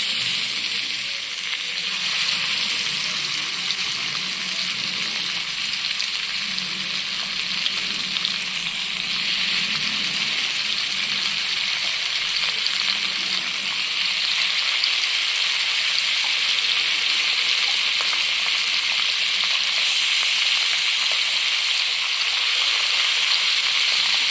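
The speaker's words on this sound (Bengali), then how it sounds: "ওদিকে মাছ ভাজা হচ্ছে" Fish steadily frying in hot mustard oil in a pan, a dense continuous sizzle that holds loud and even throughout with no talking over it.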